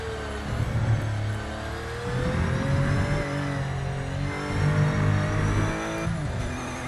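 Race cars lapping a circuit in the video game Project Motor Racing, engines droning loud and close with rising and falling revs throughout, no voices.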